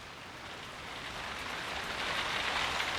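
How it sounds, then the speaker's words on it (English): Rain from a horror film soundtrack, a steady soft hiss of falling rain that slowly swells louder toward the end, with no voices. "I love the sound of rain."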